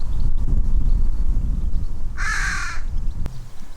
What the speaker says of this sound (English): Very cool little crow, dude.